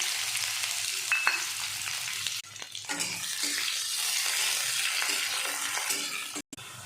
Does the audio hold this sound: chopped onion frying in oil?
yes